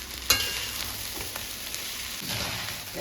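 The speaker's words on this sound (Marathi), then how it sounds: "1 ते 2 मिनिट भात परतून झालाय।" Rice and vegetables for pulao sauté in a hot pan with a steady soft sizzle, one sharp clink from a utensil near the start and faint stirring scrapes after it.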